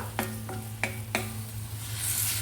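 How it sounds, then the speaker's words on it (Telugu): Rice coated in spinach paste fries in a pan under a soft, steady sizzle, with a few sharp spatula taps in the first second and a half. "ఇది కొద్దిగా ఫ్రై కానివ్వండి"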